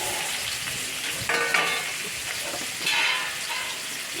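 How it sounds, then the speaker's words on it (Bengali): Chopped onion goes into hot oil already spiced with dry red chilli and black cumin, giving a dense, continuous frying sizzle with occasional stirring scrapes and crackles, close and fairly loud throughout. "এবার দিয়ে দেবো বেশ কিছুটা পেঁয়াজ কুচি,"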